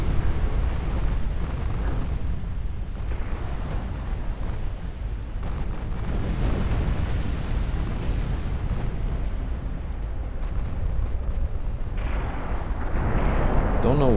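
Naval gunfire in Ultimate Admiral Dreadnoughts, a dense, continuous low rumble of heavy guns and distant blasts rolling on without pause, loud and booming throughout, with a brighter burst near the end.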